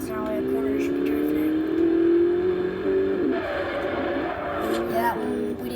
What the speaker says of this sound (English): We're going to drift this corner, even though it's not really a corner, you should be drifting.